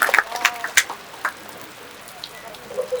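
Rain falls during an outdoor inauguration ceremony for a new mosque building, heard as scattered crackling drops and patters over a quiet background, fairly close and uneven in rhythm.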